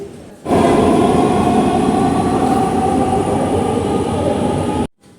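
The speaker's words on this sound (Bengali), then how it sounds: "তো ট্রেন চলে এসছে" A metro train arriving at a station roars steadily through the whole stretch, loud and close, its broad rumble and rattle holding level before cutting off abruptly at the end.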